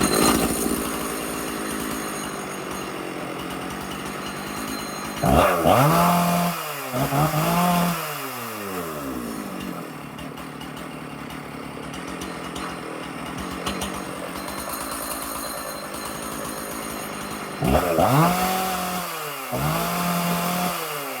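A Jonsered 670 Champ chainsaw fitted with a 20-inch bar and chain idles steadily, then revs up hard twice in bursts a few seconds apart before dropping back to idle, close and loud with no talking.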